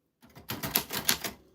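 Keys strike on a 1949 typewriter in a quick run of about half a dozen close, crisp clacks, each one distinct, with no talking.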